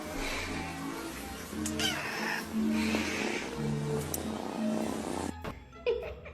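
Cats meowing in a compilation of cat clips: several drawn-out, fairly loud meows in a row with small snorts and cut-off noises between them, ending in a brief jumbled bit.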